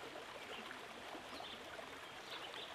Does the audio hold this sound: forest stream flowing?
yes